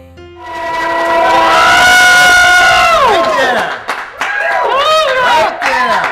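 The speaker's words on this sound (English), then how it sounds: "They can't hear us over the roar of the crowd." A loud crowd roars and shouts in a sustained, swelling chorus that peaks, then breaks into scattered cheers and whoops, with voices talking under the noise.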